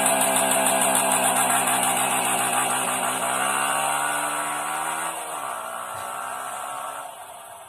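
Car engine revving on launch control, held at a high buzzing pitch with a rough, pulsing tone. Near and loud, it wavers and drops slightly toward the end, and no voices are heard.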